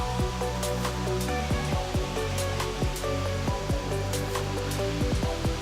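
Steady rushing water from Moopun Falls near Jowai, India, a dense continuous roar with some faint tonal whines running through it.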